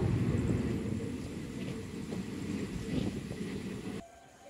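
A night train from Kolkata to Puri rumbles along the tracks with a steady, heavy low roar and faint rhythmic clatter, heard from inside and dropping off abruptly near the end.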